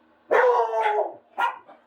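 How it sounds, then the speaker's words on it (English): A dog gives two barks close by, the first long and drawn out, the second short, with silence around them. "That's what Bogart sounds like when he barks."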